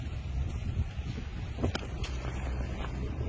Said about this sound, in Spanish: Tiene la lancha entrando.